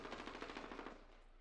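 Rapid automatic gunfire in the video game Call of Duty Warzone, a fast steady burst of evenly spaced loud shots that breaks off partway and leaves a fading echo.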